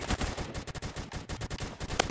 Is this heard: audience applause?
no